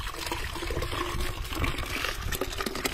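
Water is poured into a transparent bottle, a close, gurgling splash that rises and falls unevenly over a few seconds, with no talking.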